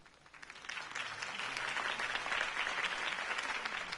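A video game crowd at a political campaign rally applauds steadily, a dense wash of clapping that swells slightly and holds for a few seconds.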